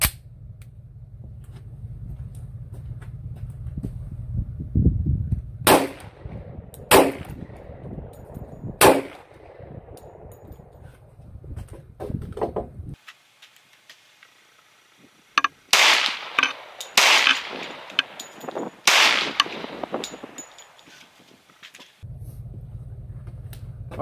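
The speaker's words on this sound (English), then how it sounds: "now I'm going to shoot three of the HSMs without the suppressor." Three unsuppressed shots from a Glock 10mm pistol firing HSM rounds ring out outdoors as sharp, loud cracks spaced a few seconds apart, followed by several more bursts of clattering impulses amid quiet handling noise.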